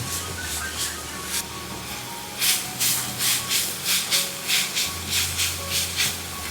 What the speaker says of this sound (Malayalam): ക്യാരറ്റ് ഒന്ന് നമുക്ക് വഴറ്റിയെടുക്കാം. മീഡിയം ഫ്ലെയിം വെച്ച് കൊടുക്കാം.